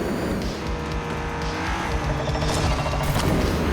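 Toy car racing in the video game Hot Wheels Unleashed: loud, steady engine roar with tire squeals and skidding, the pitch shifting as the car steers and passes, continuous throughout.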